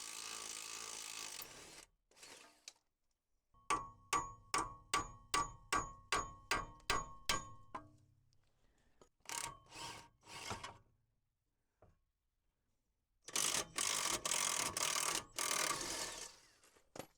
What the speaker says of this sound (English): I used my impact gun, but I had to go forward and then back to get it out